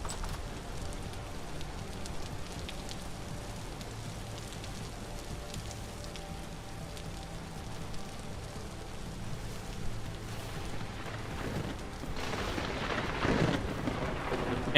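Steady rain patters over the landscape of the survival game Vintage Story, with a deep rumble of thunder swelling near the end; the storm stays soft and distant throughout.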